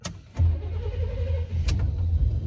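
A car engine cranks briefly and catches, settling into a steady low idle hum close by, with a short clatter partway through.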